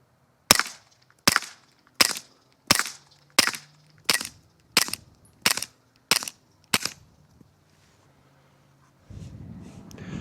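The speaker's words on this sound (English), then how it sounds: "you guys will be able to hear what it sounds like if you just have 115 grain supersonics through the suppressor" Nine sharp suppressed rifle shots fired with 115 grain supersonic rounds crack at an even pace, each loud and close with a short ring-off, followed by quiet and then low rustling near the end.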